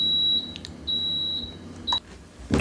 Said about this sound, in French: excusez-moi pour la sonnerie que vous avez entendue derrière, il m'avertissait qu'il n'y avait plus de pétrole